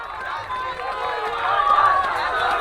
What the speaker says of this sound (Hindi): ये आवाजें आपको बता दे रही है कि किस तरह से जनता आक्रोशित है।